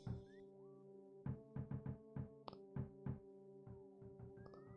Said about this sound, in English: There's a rap-a-tap-tapping on my door